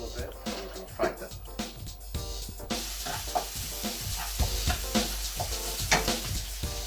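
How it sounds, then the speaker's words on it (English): Ground beef and onion fry in a small amount of oil, a soft sizzle with scraping stirs and pan clatter, close by, while someone talks over the cooking. "Now we're going to fry the ground beef and with the onion."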